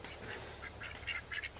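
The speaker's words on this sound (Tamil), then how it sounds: "வாத்து நல்லா சாப்பிடுது" Ducks on a farm quacking and chattering in short bursts over a steady low background hum, fairly close and moderately loud.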